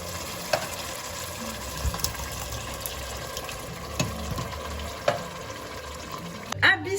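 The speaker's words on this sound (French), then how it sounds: "Une fois les oignons revenus, on va ajouter la pulpe de tomate." Tomato pulp from two 400 g tins tipped onto softened onions in a hot pan, a steady low sizzle with occasional clicks and stirring scrapes, ending in a brief louder clatter.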